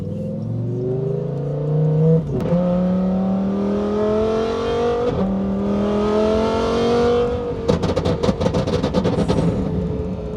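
A Lamborghini engine revs up repeatedly, pitch climbing with each gear before dropping, ending in a burst of crackling pops from the exhaust.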